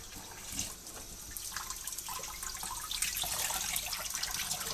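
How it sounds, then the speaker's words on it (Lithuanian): Tap water pours steadily over a head of cauliflower being rinsed under the faucet, a continuous close splashing wash with no voices over it. "Toliau plausime žiedinį kopūstą. Žiūrėkit, kaip nubėga nuo vanduo."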